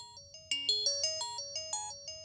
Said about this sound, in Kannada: ವೆಂಕಟೇಶ್ ಫೋನ್ ಕಣೋ.